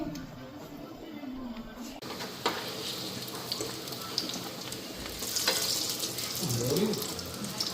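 Food fries in a home kitchen pan with a constant soft sizzle, broken by stirring scrapes and clinks and a brief water-like run, heard close but fairly quiet throughout.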